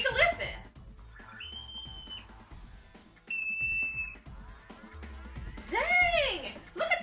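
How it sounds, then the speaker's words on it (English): Hoary marmots calling in the wild: two sharp, high-pitched whistles, each under a second, stand out clearly over outdoor noise, followed by a swooping chirp-like call near the end. "They have a high-pitched whistle they use to communicate with members of their colony."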